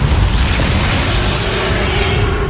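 A Repulso spell cast in Hogwarts Legacy lands as a loud, booming magical blast, a dense burst of broadband energy that stays full and roaring through the whole moment with no talking over it.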